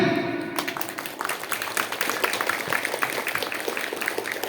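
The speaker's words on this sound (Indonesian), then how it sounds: "Tepuk tangan." Audience applause at a Pramuka (Scout) anniversary commemoration, a steady wash of many hands clapping that starts abruptly after a brief lull and holds at moderate level throughout.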